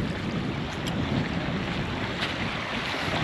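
River water rushing around a rocky ford on the Rivière des Galets in Mafate, La Réunion, a steady broadband wash mixed with wind buffeting the microphone, close and continuous with no voices.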